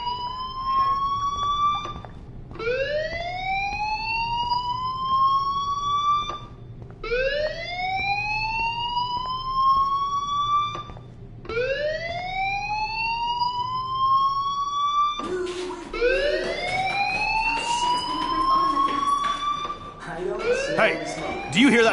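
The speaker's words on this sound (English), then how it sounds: "Hey, do you hear that fire alarm?" A school fire alarm in the video game Life Is Strange, a loud repeating electronic whoop that rises in pitch, with five or six sweeps in a steady rhythm, growing harsher and busier near the end.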